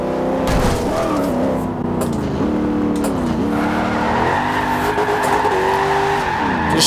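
A car in Forza Horizon 2 slides out in second gear, tires squealing in long wavering screeches over a loud, revving engine that rises and falls throughout.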